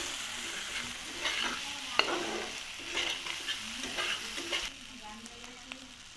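Spice masala with turmeric powder and a splash of water sizzles in a pan for a mustard fish curry, with repeated scraping stirs of a spatula over a steady, soft frying crackle.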